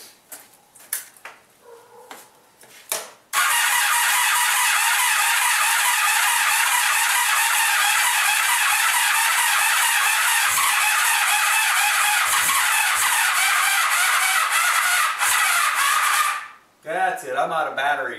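A Honda Sabre motorcycle engine cranked by its starter in a long, loud, continuous whirring burst after a few brief clanks, then stopping abruptly and followed by a short rattle.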